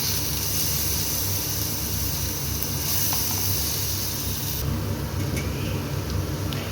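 Raw plantain pieces coated in masala frying in a pan over medium heat, giving a steady, close, broadband sizzle that runs unbroken throughout with no talking.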